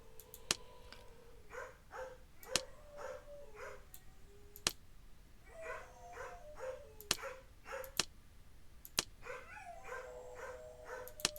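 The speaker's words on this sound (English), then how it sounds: "can you hear them back there? Whining, crying dogs." Dogs whine and cry in the game Caribbean Legend, with thin, wavering high-pitched whimpers recurring in short bursts. Sharp, regular clicks punctuate them throughout.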